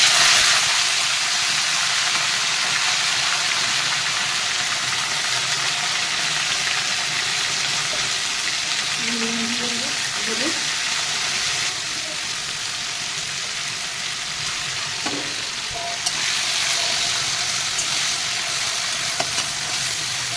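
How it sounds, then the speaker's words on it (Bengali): Sea crabs frying in hot oil in a Bengali kitchen, a long, steady sizzle with occasional soft stirring clinks of a utensil against the pan. "এই কাঁকড়াগুলো তেলের উপরে ভেজে নেব"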